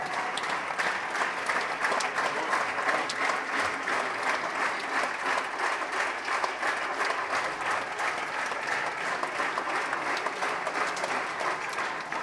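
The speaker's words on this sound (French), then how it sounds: "Continue d'applaudir les gens," Sustained studio audience applause on a French TV talk show set, steady dense clapping throughout, loud and continuous with no talk over it.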